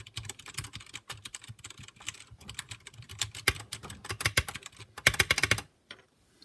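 Fingers type on a Royal Kludge RK61 60% mechanical keyboard, a dense run of quick close clicks and clacks that speeds into a faster burst before stopping abruptly, with no talking.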